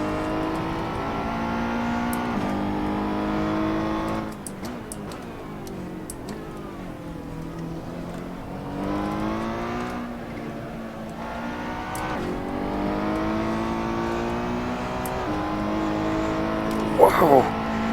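A race car engine in Assetto Corsa revs and accelerates, climbing through gears with rising and falling pitch as the pedal is held down. The engine sound is loud and sustained throughout, with a brief squeal near the end.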